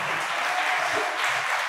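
An audience at a college event applauds steadily, the dense clapping close and continuous, rising slightly toward the middle and end with no voices over it.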